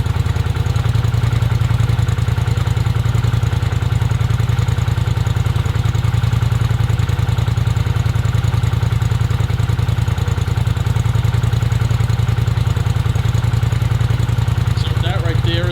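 A 2018 Polaris Sportsman 1000 XP ATV with a Big Gun EXO SS slip-on exhaust idling steadily at close range, a constant rumbling drone with a slight change near the very end.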